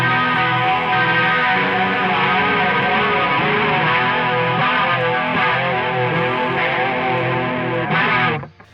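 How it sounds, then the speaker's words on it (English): Electric guitar strummed through a shimmering chorus pedal, shoegaze-style sustained warbling chords played loudly and steadily before cutting off abruptly at the end. "It's a chorus pedal. I use this kind of as an effect, depending on the song."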